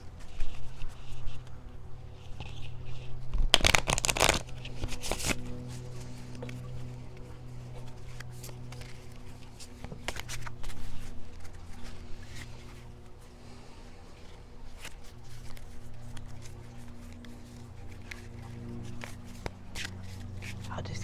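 Crisp riffling and soft shuffling of a card deck, with a sharp burst of riffle near the start, then quieter continuous handling under a low background hum.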